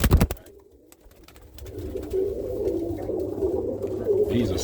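Roller pigeon hens cooing in a loft: a low, steady murmur of overlapping coos that keeps building after a brief clatter at the start.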